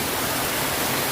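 Water splashing steadily in Hong Kong Park as a dense, constant, loud wash like a small waterfall, with no voices over it.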